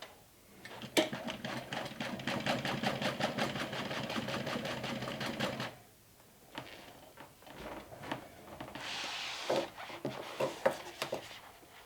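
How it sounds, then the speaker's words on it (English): A sewing machine stitches pieces on each side of a backpack handle, running in a steady rapid whir for about five seconds before stopping, followed by quieter handling clatter and fabric rustle. "So I'm just stitching them on each side of that handle"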